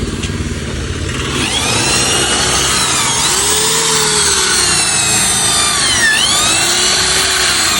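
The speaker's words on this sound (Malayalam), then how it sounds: "അതിൻ്റെ സ്ക്രൂ ഊരിക്കൊണ്ടിരിക്കുകയാണ്." Screws being removed from a motorbike's rear number plate, a loud continuous whirring power tool whine that rises and falls in pitch, close and alone.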